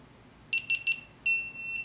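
GoPro Hero10 camera powering on: three quick high-pitched electronic beeps followed by a longer steady tone, close and clean over a quiet room.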